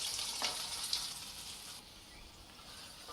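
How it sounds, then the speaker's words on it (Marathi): Finely chopped onion goes into a pan of hot oil with frying mustard seeds and cumin, giving a soft, steady sizzling hiss with a couple of faint stirring taps, fairly quiet and with no talking. "जिरं चांगलं फुललं की त्याच्यामध्ये हा बारीक चिरून घेतलेला कांदा घालून घेऊया"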